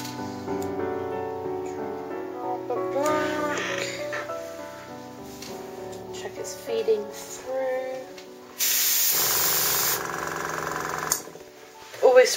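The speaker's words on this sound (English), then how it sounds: "Spray onto paper towel or something first to check that the previous colour isn't still in the airbrush." An airbrush loaded with black paint gives a short, steady hissing spray onto a paper towel, loud and close, after stretches of talk and music.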